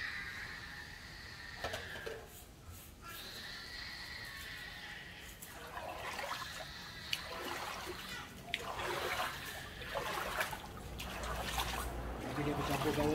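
Hydroponic nutrient solution B mixed into plain tap water, with water trickling and splashing intermittently and a voice talking over it throughout.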